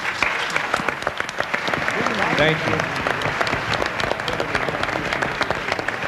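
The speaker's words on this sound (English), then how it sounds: "ask you to applaud these young people as they stand" A large conference audience at a State of the Black Union gathering applauds young people as they stand, with sustained, dense clapping throughout while a voice speaks briefly over it.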